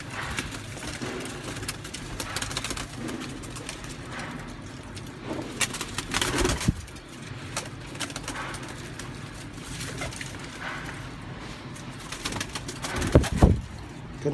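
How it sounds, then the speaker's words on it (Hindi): Baz Lakha pigeons kept for sale coo softly through a steady low murmur of background noise, with scattered brief calls and a couple of sharper bursts near the end. "दुबाज लाखा कबूतर है जी"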